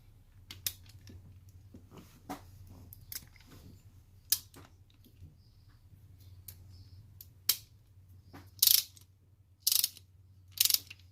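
A ratchet torquing a spark plug on a 2014 Toyota Tacoma V6, with quiet scattered clicks and several louder, sharp bursts near the end, close by and without speech.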